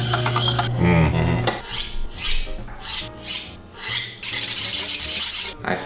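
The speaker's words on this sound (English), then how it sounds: "I think I'll give it a couple of passes with this worn out 600 grit as well." Quick rasping strokes of a knife edge, made from an old shovel, drawn over worn 600 grit abrasive, a steady run of close, loud scrapes with a faint ringing tone at the start.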